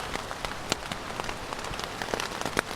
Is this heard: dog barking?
no